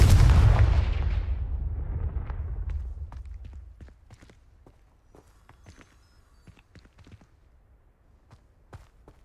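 A Confringo fire spell cast in the Hogwarts Legacy video game: a loud, booming fiery blast that decays over about three seconds into quieter scattered clicks and small impacts.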